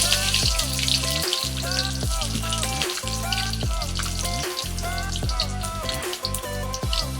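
Whole garlic cloves fry in hot oil with a steady, close crackling sizzle that lasts throughout, set against a repeating tonal background.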